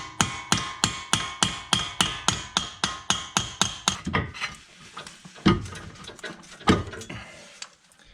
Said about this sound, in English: I can come down here with my punch again and I can punch the center of the CV shaft and push it out